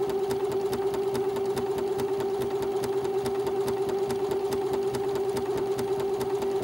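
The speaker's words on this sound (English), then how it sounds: "it's going to go back and forth again and do the satin stitch. Now, I can go faster." An Always In Stitches HQ Stitch 210 sewing machine runs a satin stitch at a steady fast pace, its needle ticking in an even rapid rhythm over a continuous motor hum, close and with no voices.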